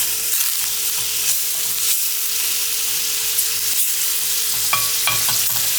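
Cod and chickpeas cook in a pan over lowered heat, giving a loud, continuous sizzle and frying crackle with occasional stirring clinks. No voice is heard.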